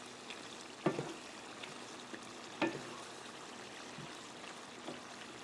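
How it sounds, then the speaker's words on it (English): Boiled shrimp being stirred in a pot for a crab feast: a few sharp clanks of a utensil against the pot, spaced about two seconds apart, over a soft watery sloshing background. "I'm gonna stir up that shrimp."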